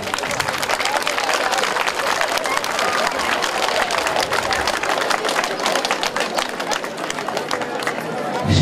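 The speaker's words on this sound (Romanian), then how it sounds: "Vă rog să-i aplaudați pe colegii voștri." Outdoor crowd applause at a Heroes Day wreath-laying ceremony at a war memorial in Dărmănești, steady dense clapping mixed with crowd chatter and some talking, continuing at even loudness throughout.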